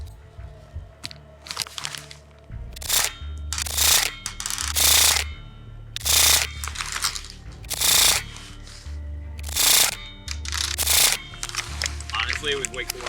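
An EShooter M Tracer gel blaster fires in rapid full-auto bursts, about eight loud, clustered volleys of mechanical cracks with short pauses between them, close to the listener.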